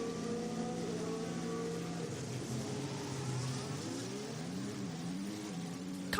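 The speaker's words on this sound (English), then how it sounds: "build up the RPM and do the revs" A Formula 1 car engine, Max Verstappen's car in British Grand Prix practice at Silverstone in 2023, revs up and down, with rising and falling whining pitches that sound distant and somewhat faint.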